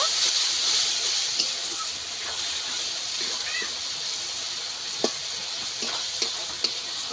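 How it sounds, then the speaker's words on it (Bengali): Turmeric and chili powder with a splash of water sizzle in hot oil in a pan for a fish curry, a steady loud hiss with a few sharp utensil clicks near the end. "সব কিছু একসঙ্গে মশলা কষিয়ে নেব।"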